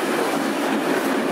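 Randen Mobo 21 retro tram running on rails in Kyoto, a steady close rolling rumble with faint clickety-clack of wheels throughout a short stretch, no voices.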